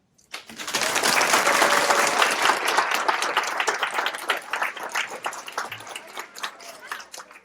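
A school audience at a Black History Month exhibit and reception applauds its student speakers, dense clapping swelling in quickly and then thinning into scattered, individual claps toward the end.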